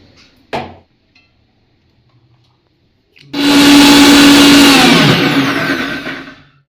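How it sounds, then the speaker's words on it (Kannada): A mixer grinder whirs loudly, blending chutney of chillies, coriander, ginger, peanuts, fried onion and tomato; a short knock is followed by silence, then the motor runs steadily for about three seconds before winding down. "ಚೆನ್ನಾಗಿ ಗ್ರೈಂಡ್ ಮಾಡಬೇಕು."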